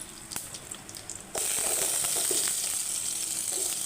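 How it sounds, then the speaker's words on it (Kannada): Chopped onion tipped into hot oil already crackling with cumin and mustard seeds, a sudden loud, steady sizzle bursting in partway through and continuing without talk. "ಅದಕ್ಕೆ ಜೀರಿಗೆ, ಸಾಸಿವೆ ಹಾಕ್ಕೊಂಡು ಅದು ಸಿಟ್ಬಿಡ್ತಾ ಇದ್ದಂಗೆ ಈರುಳ್ಳಿ ಹಾಕ್ಕೊಳ್ತಾ ಇದ್ದೀನಿ"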